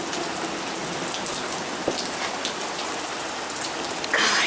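Heavy, steady rain pours down during a severe thunderstorm with a tornado warning, a dense close hiss with no voices and a brief louder surge near the end.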